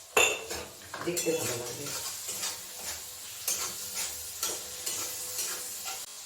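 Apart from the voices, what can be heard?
chopped tomato added to the cooking pan and stirred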